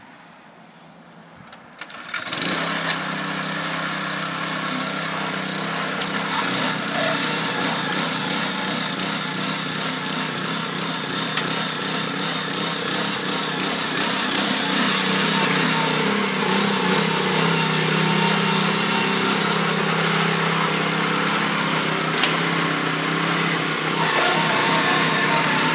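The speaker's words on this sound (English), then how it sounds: "Gentlemen, start your engines." Lawn aeration machine engines start up and settle into a loud, continuous running drone that grows slightly fuller over time, close by outdoors in a yard, with no talk.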